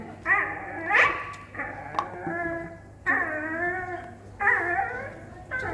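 A dog whimpers and whines from inside a locked van at a seaside holiday park, its high, wavering cries coming in several drawn-out bursts over a low background hum.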